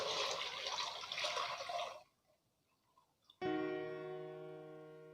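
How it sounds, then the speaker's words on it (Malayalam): Jaggery syrup pours into a kadai for Onam kadala pradhaman with a soft, steady watery rush for about two seconds. After a short pause, a bright metallic ring sounds and slowly fades. "നമുക്ക് കടായിലേക്ക് എടുത്തു വച്ചിരിക്കുന്ന ശർക്കരപ്പാനി ഒഴിച്ചു കൊടുക്കാം."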